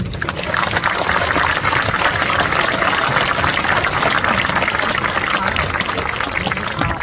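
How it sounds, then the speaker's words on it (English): Sustained applause from a graduation ceremony audience at Pocono Mountain West High School, honoring the graduates' parents: dense, even clapping that fills the hall for the whole stretch, loud and continuous with no pauses. "Please join me in giving them a round of applause to show our appreciation."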